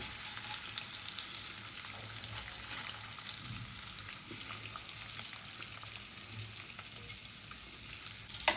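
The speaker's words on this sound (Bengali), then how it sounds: "এবার একটু ভেজে নেব।" Washed and dried rice frying in a pan with raisins for a paneer pulao, a steady soft sizzle with light stirring scrapes, close and without talk.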